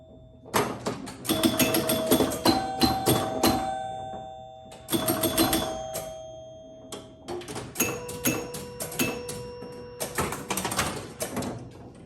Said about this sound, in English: So yeah, that chime sounds a lot better.